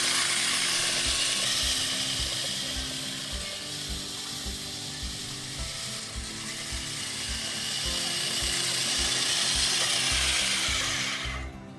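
Manual reel lawn mower set to a 1 inch cutting height, rolling across a backyard lawn with a rapid rhythmic clicking and whirring of the spinning blades, steady and close throughout.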